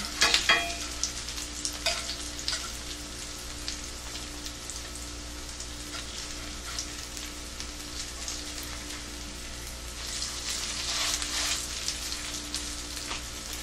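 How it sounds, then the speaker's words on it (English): A cauliflower fritter frying in a pan gives off a steady, close sizzle with soft crackling throughout, swelling a little louder near the end with no voices. "This one is almost ready. I'm going to flip it on the other side."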